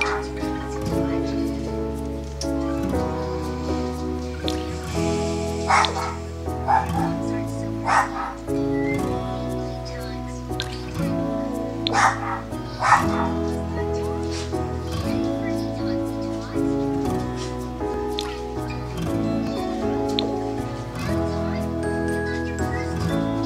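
A dog in a video game barks in repeated short bursts, fairly close, over a constant backdrop of game music with steady tonal notes.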